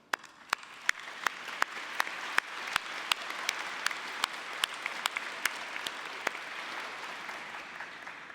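A convocation ceremony crowd gives sustained applause to welcome the platform party, a dense steady wash of clapping with a few crisp individual claps standing out throughout.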